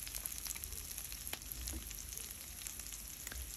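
Sliced onions fry in an oil-filled pan for fried rice, a steady close crackling sizzle with faint scattered pops and no talking.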